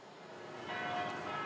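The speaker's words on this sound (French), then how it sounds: "Bethléem résonne du son des cloches." Church bells ring in Bethlehem ahead of Christmas, a faint, distant metallic tolling over outdoor background noise, with no voices.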